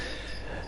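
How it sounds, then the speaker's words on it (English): Escaped pet feeder crickets chirp under the floorboards in a steady, continuous high trill over a low background hum. "one of the crickets have escaped and it's under my floorboards."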